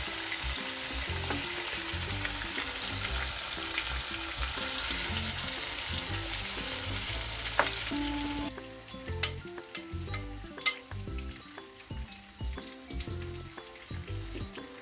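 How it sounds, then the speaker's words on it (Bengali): Chicken chop frying in a pan of oil, restaurant style, gives a loud steady sizzle for about eight seconds, then the hiss drops lower while sharp scraping clicks from turning the pieces punctuate it. "সেভাবে একটু ভেজে নেবে"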